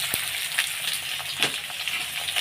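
Chopped vegetable stalks and potatoes hit hot oil with blackened nigella seeds, giving a steady close sizzle with a few sharper crackles and pops throughout.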